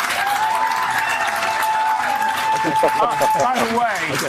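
A studio audience applauds and cheers throughout, a steady wash of clapping that stays loud under continuous talk, with voices rising over it near the end.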